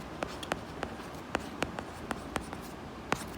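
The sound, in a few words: writing the word rejected on a maths solution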